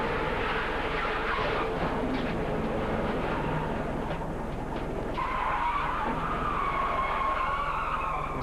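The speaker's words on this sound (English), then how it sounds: "he slides past it and doesn't hit anything except a lot of grass and dirt" Onboard a 2003 IROC race car at Daytona sliding through grass and dirt, a loud continuous roar of engine and skidding tires with scraping rushes, steady and close throughout.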